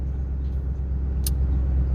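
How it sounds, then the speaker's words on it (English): Road traffic at a racetrack event hums as a steady low rumble of vehicles passing at moderate distance, with a brief hiss near the middle, continuous throughout with no talking. "and just watching all the traffic"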